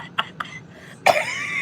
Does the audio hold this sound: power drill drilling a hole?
no